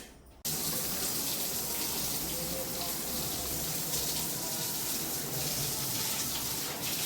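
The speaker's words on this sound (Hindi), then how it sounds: "ज़्यादा पानी मत गिरा।" A household tap suddenly opens and water gushes steadily into a sink, a loud continuous rushing hiss that stays even to the end.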